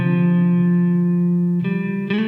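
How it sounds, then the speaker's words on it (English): A sustained, harmonically rich synth-like tone rings out through a convolution reverb plugin using vintage-gear impulse responses, with a reverberant wash, shifting pitch twice near the end as new notes enter. "This is a convolution style reverb that features 70 impulse responses from vintage gear"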